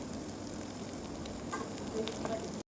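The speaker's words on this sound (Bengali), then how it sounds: "ভাজতে হবে পকোড়াগুলোকে" Maggi noodle pakoras deep-frying in oil over low heat, a continuous close sizzle and bubbling with a few crackles and pops.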